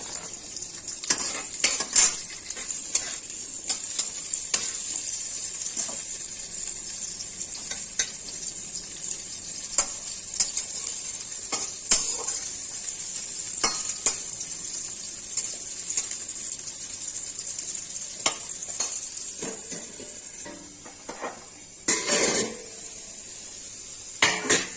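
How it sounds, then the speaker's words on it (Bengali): Potatoes and carrots fry in a pan for muri ghonto, a soft continuous sizzle overlaid by repeated scraping and clinking as a metal spoon stirs them, with a brief pause near the end before stirring resumes. "এবার আলুগুলো ছেড়ে দিচ্ছি, সাথে গাজরগুলোও ছেড়ে দেবো।"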